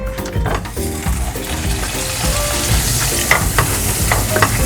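Butter sizzles loudly in a hot wok-style pan for a garlic butter crab and shrimp dish, a steady bright crackle with a spoon stirring and scraping through it, no talking.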